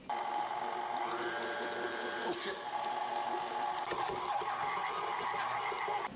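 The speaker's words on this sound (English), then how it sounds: "Now we're gonna mix it on speed number 2 for 30 seconds." A stand mixer with a paddle churns pasta dough on speed 2, giving a steady, close mechanical whir and rattle that runs on without a break, with brief bumps and scrapes from the bowl.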